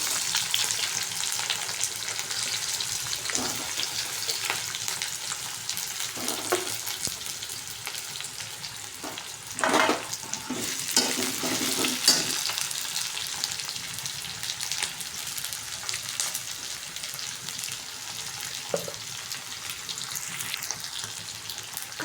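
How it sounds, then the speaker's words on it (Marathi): Chopped onion frying in a pan on its way to browning for an egg curry, a steady broadband sizzle with a few louder spatter bursts, continuous and close with no voices. "तर टाकू कांदा. कांदा पण चांगला ब्राऊन कलरचा करून घ्यायचा."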